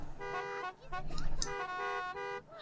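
Car horns honk in The Sims 1 computer game, several toots and longer blares overlapping in a busy, uneven burst while voices talk over them.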